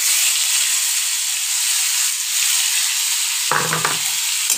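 Bilati amra (hog plum) fries in a pan with darkly roasted spices for a chutney, giving a loud, steady sizzling hiss with a short clattering stir near the end.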